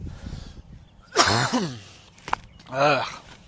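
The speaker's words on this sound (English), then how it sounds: "Stupid cough." A person coughing outdoors at a campground, a few rough throaty bursts spaced apart, fairly close and moderately loud.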